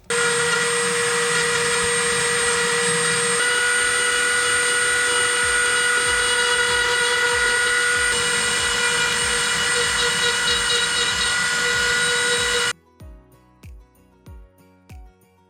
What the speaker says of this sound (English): I'm gonna throw on the bigger bit and I'll go through and carve out all the middles.